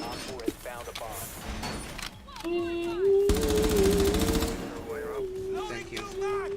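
Gunfire in the tactical shooter Rainbow Six Siege, with rapid bursts of automatic fire and a sustained loud volley in the middle, mixed with game sounds and people talking throughout.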